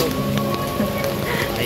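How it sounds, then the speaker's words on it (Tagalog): Rain falling heavily on a surface outdoors, a loud close patter of drops that continues steadily for under two seconds, with a faint murmur of background sounds mixed in. "Ulan, maulan."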